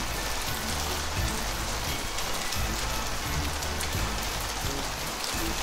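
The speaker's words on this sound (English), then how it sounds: "Sunday night, and oh dear, it's still raining." Steady rain falls on a surface, a dense continuous patter of drops with a low rumbling underlay, close and unbroken, without any voices.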